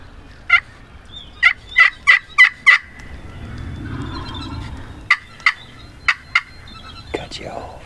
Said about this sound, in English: all of a sudden we heard a turkey gobble over here to our hard right